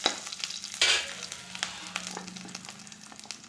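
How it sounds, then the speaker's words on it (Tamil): Cumin and garlic fry in a pan with a close, steady crackling sizzle, broken by a few sharper pops and stirring scrapes, fairly quiet and with no voices. "சீரகம், பூண்டு, நல்லா வறுத்துக்கலாம்."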